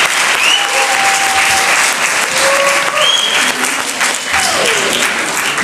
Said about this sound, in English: Can we just give a round of applause for that?